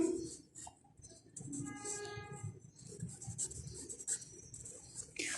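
A pen or pencil scratches across paper in short irregular strokes, faint and close, with quiet room noise around it.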